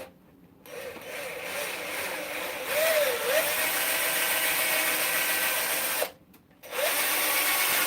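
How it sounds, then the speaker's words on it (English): A power drill bores a hole into a turned wooden whistle blank at the fipple, a steady close whine that dips briefly near the end before resuming. "All right, so I'm gonna drill a hole right here."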